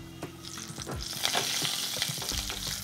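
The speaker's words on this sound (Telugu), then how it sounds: "ఆయిల్ వేడెక్కిన తర్వాత 1 టేబుల్ స్పూన్ శనగపప్పు వేసుకోవాలి" Chana dal and urad dal fry in hot groundnut oil with a busy, crackling sizzle, close up. Intermittent stirring scrapes run underneath.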